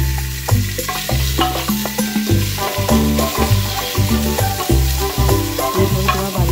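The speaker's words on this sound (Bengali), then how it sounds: "মাটনটা এর মধ্যে দিয়ে একটু নাড়াচাড়া করে নেবো।" Mutton pieces being stirred in a frying pan while cooking a low-oil winter mutton stew with vegetables, a steady loud sizzle with regular scraping strokes throughout.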